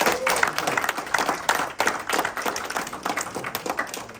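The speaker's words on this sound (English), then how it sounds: "give me a round of applause that I know you have the energy" An audience at a startup pitch competition in Warsaw gives a lively round of applause, with hands clapping close by and some cheering and murmuring under it, holding steady across the clip.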